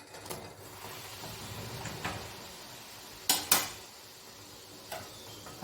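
A metal pot being handled while water with baking soda is boiled, giving scattered clinks and a couple of sharp metallic knocks over a faint background hiss.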